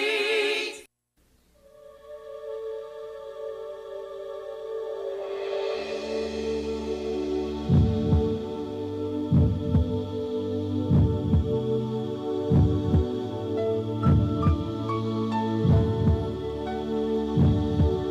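A steady, rhythmic heartbeat throbs beneath a low hum, its regular double-thumps repeating about every second and a half after a brief quiet opening, with no talking.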